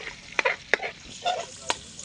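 Sautéing in a frying pan while cooking mung beans, with a few sharp sizzling bursts and spatters over a short, quiet stretch and no voices.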